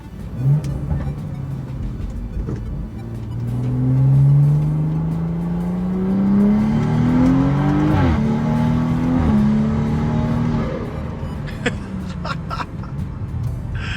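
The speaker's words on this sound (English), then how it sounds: "The induction noise is just crazy, man." A tuned car fitted with a new chargepipe and running on pump fuel accelerates loudly up through several gears, its engine tone climbing and dropping at each shift, with induction whoosh and a few pops toward the end.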